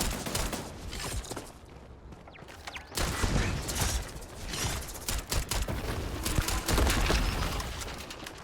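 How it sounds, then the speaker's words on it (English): Turrets firing on an alien planet in Starfield, a dense run of rapid gunfire bursts over a loud, steady rumbling background, with no talking. "Why do I hear turrets?"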